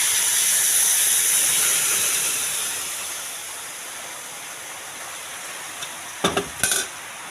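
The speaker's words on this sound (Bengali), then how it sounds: "গরম জল ঢেলে দিলাম," Hot water hits a frying pan of spiced egg curry, a loud rushing hiss of steam that fades over a few seconds into a quieter simmer, followed by a couple of sharp clatters near the end.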